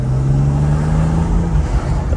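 A small car with an opening sunroof, bought as a drift project, being driven; a steady engine drone holds a constant pitch, then shifts and fades slightly near the end, heard loud and close with no talking.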